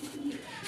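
A pigeon coos once, a short low throaty call close by, with faint voices and background noise around it.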